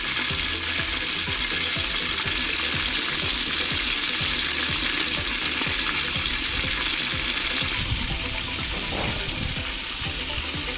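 Food frying in hot oil for kuzhimandi makes a loud, steady sizzle throughout, with repeated low knocks and scrapes of stirring underneath and a slight change in tone near the end.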